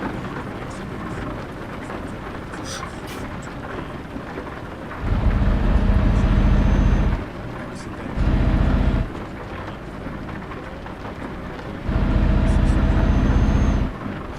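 Rain and rolling thunder in the Euro Truck Simulator 2 game: constant rain hiss beneath three heavy, low rumbling thunder bursts, loud and close, with engine drone underneath.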